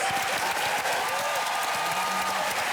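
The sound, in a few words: audience applause for the speakers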